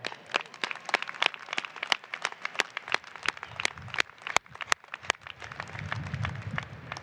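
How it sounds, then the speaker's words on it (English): Commencement audience applauding at a university graduation ceremony, a sustained crowd of sharp, dense handclaps continuing for several seconds with a faint low rumble of the hall beneath. "Let's give him a big Dragon family applause."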